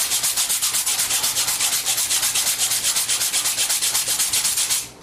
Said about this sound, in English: Grating it like that.